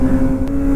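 A loud Kawasaki motorcycle exhaust drones steadily at close range with a strong low hum, running hard, continuous throughout with no pauses.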